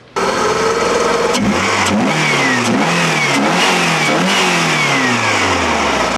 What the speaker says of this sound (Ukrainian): Їздить на 20-річних Жигулях.